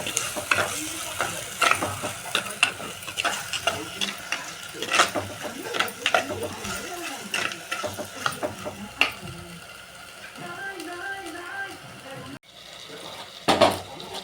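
Tomatoes fry in a pan for a crab masala while a spoon stirs them, making repeated close scraping strokes over a soft sizzle. The stirring stops near the end and a few clatters follow.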